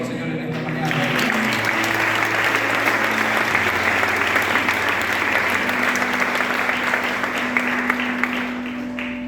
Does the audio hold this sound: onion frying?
no